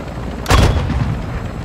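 A loud, close airstrike blast in Warzone 2.0 hits suddenly and leaves a heavy rumbling tail that lasts about a second, with no talk over it.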